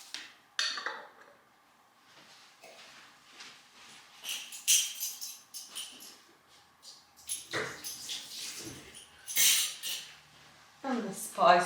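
Homemade mayonnaise being stirred with mustard and spices, a utensil scraping and clinking against a bowl in irregular bursts, fairly close but quiet, with a voice speaking in between.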